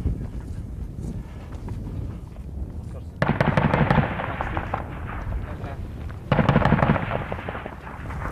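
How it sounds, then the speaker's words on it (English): Warning shots fired by Afghan National Army soldiers during a British Royal Irish operation in Afghanistan: two loud, sharp bursts, roughly three seconds apart, each trailing off, over outdoor background noise. "That was an ANA were firing warning shots."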